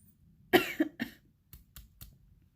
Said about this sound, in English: there's going to be a lot of editing because I'm coughing